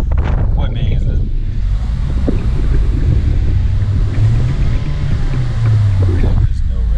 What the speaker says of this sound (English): It looks cool, but boy, it doesn't sound very fast at all.